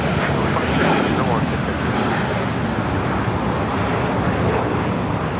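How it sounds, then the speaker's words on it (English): United Airlines Boeing 787-9 Dreamliner taking off from LAX for Hong Kong, heard as a loud, sustained engine rumble and roar with a steady level from start to finish. "This is United Airlines 801 taking off to Hong Kong on the 787-9 Dreamliner"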